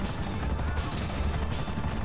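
A helicopter in the video game GTA 5 Online makes a dense, steady rotor-and-engine roar that fills the space, loud and continuous, with crash-like noise and possible gunfire mixed in.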